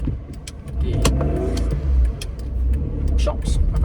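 A steady low rumble fills the interior of a silver car, with faint clicks and rattles on top as a person talks over it.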